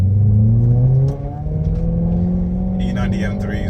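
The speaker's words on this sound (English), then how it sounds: "This exhaust is absolutely amazing." A BMW E90 M3 with a naturally aspirated V8 and six-speed manual drives with the windows down, its exhaust droning loudly, dipping briefly as the note shifts, then holding a steady tone while a voice talks over it.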